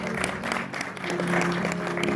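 An audience at a poetry recitation event applauds poet Abu Taher, with a short burst of steady, fairly loud clapping and a voice mixed in.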